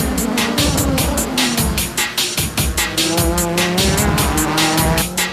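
JGTC race cars, including the Esso Supra, racing hard with loud engine whine and repeated sharp tire squeals in a steady choppy rhythm, fairly close and continuous throughout.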